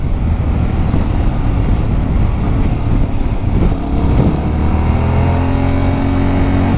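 A Yamaha Ténéré 700 World Raid motorcycle with stock exhaust ridden along a forest road, its engine loud and close, a continuous throbbing drone with slight rises and dips in revs, no talking.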